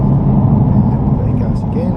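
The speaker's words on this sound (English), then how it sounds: "Back on the gas again, nice and smooth through these corners." A Nissan GT-R on a track sends a steady, loud, close engine drone through the cabin, holding an even low rumble for the whole two seconds.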